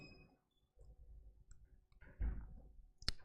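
A single sharp mouse click lands near the end after a few quieter scattered clicks and rustles at a desk, close and brief, with no talking.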